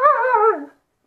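A dog lets out a single drawn-out whimpering whine, close and clear, rising and wavering before fading away within under a second.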